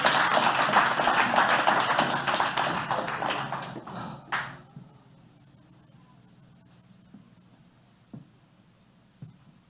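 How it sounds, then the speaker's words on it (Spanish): A church congregation applauds during a Spanish-language service: dense, loud clapping for about four seconds that quickly dies away to near-silence, leaving only a few isolated taps. "Dale un aplauso al Señor en esta mañana."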